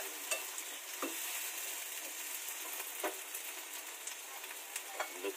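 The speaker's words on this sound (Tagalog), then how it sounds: "Lutuin lang natin yung kamatis guys." Tomatoes, a mix of red and green, sizzle in a pan for kinamatisang tuna while a utensil stirs them, giving occasional scraping clicks over a steady frying hiss, close up with no talking.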